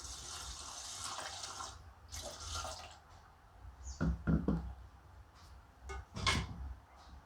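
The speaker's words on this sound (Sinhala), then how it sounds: "අවශ්‍ය ප්‍රමාණය වතුර දාගන්න" Water splashes and pours into a rice cooker pot in short bursts, followed by a few knocks and clatters of the pot and lid nearby.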